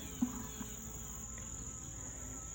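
Honey bees buzzing around an abandoned hive, a faint, steady drone of many insects with a small thump early on and no voices.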